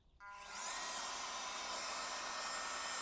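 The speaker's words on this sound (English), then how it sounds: "That's the hairdryer." A USB-C rechargeable van life hair dryer switches on and spins up within half a second into a steady, loud, close whooshing whir of fan and airflow that holds evenly to the end, with no voices.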